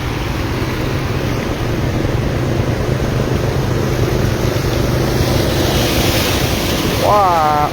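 Floodwater rushes through a village near Vientiane, Laos, as a loud, steady roar of moving water mixed with wind buffeting the microphone close by, with a brief whistling tone near the end.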